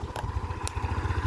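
A Yamaha Aerox motorcycle engine running after a jump start, a steady close pulsing idle with a couple of brief sharp clicks on top and no talk.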